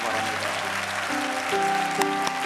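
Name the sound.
church congregation applause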